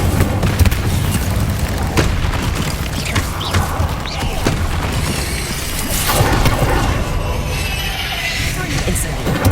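Bombarda blasting-spell explosions in Hogwarts Legacy on PS5, with booming blasts and rumbling impacts packed into a loud, dense, continuous barrage of spell combat and game effects.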